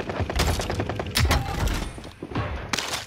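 Gunfire in a first-person shooter game, with dense bursts of shots, thumps and impacts that continue without a break over about three seconds at close range.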